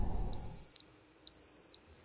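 Two steady, high electronic alarm tones, each about half a second long, beep in a control room, clear and alone after a brief murmur of background noise fades out.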